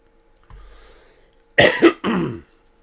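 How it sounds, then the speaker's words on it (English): A short throat clear followed by two sharp, close coughs in quick succession, then quiet. "Got a bit of a tickly cough."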